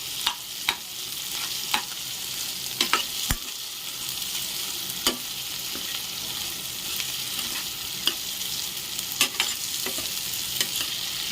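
A spatula mixes spiced potato samosa filling in a frying pan, with scattered sharp scrapes and taps over a continuous gentle sizzle, close up and without talk.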